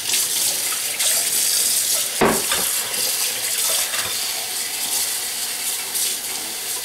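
Tap water runs steadily into a sink, splashing and shifting as grated potatoes are rinsed under the stream, with a brief clatter midway.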